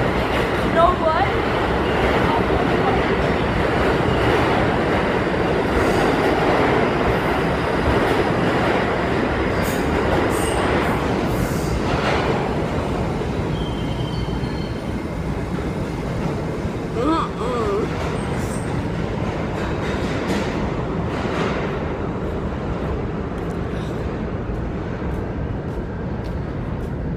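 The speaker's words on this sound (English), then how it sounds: "Sure is our train." A nearby train rolls past with a sustained rumble, rattling wagons and faint wheel squeals, while people talk over the noise.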